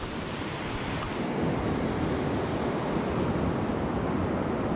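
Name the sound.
river flowing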